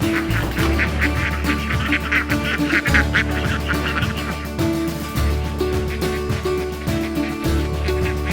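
Homestead ducks quack loudly and continuously on their morning run, a close, busy chorus of overlapping calls with no talking.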